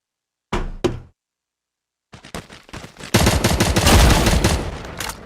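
Gunfire in the MATR1X FIRE shooter game: two sharp shots, a pause, then scattered shots building into a loud sustained burst of rapid automatic fire, with no talk.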